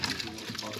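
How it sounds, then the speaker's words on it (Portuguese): A bucket filling with water from a tap for mopping a corridor during house cleaning, a brief steady rushing gush, close and fairly loud, with no talk. "Não, vou encher que eu vou jogar água ali no corredor."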